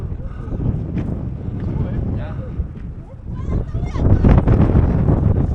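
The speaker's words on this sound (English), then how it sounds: "Stunning view, very windy up here, on the top." Strong wind roars steadily across the microphone outdoors on a hilltop, gusting harder toward the end, with people talking faintly underneath.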